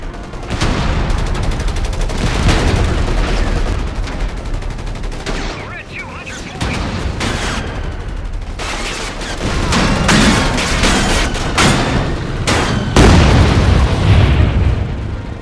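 Dense gunfire and heavy airstrike explosions from the video game Company of Heroes 3 rumble in a continuous loud barrage of booms and bursts, with overlapping crackling shots.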